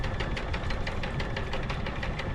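A boat engine, running on a single engine at low throttle while the anchor is raised, chugs in a steady, even rhythm of close, muffled low pulses with no talking.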